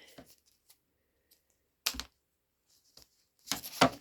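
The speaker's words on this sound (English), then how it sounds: "I'm definitely going to cheat and use my scissors" A few sharp snipping sounds from scissors cutting, scattered with quiet gaps between, close and crisp with faint handling noises.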